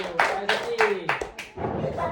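A few classroom students clap in short bursts, around five distinct claps spaced unevenly and fairly close, with a voice speaking briefly among them.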